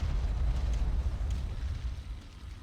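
Artillery bombardment in the real-time strategy game Ground Control, a continuous deep rumbling roar of overlapping explosions that stays loud throughout and tapers slightly toward the end.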